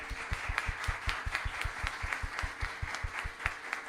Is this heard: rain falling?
no